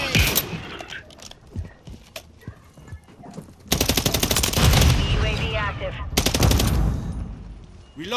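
Heavy automatic gunfire from Modern Warfare 3 combat, a quieter scatter of shots giving way to long, loud machine-gun bursts that rattle on for several seconds, with game chatter mixed underneath.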